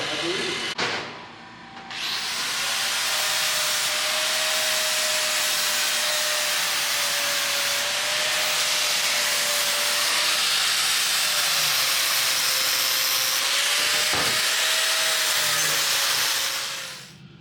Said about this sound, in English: Now we're gonna weld that to that.